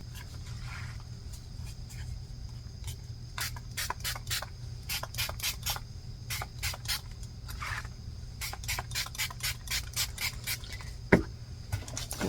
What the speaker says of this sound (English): now I'm going to spray this with some water